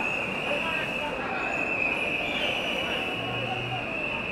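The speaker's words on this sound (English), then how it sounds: "Attention, départ de train." A specially chartered train departing the station at Zürich Hauptbahnhof, its wheels giving a sustained high squeal over a rumbling rolling sound, close and steady throughout.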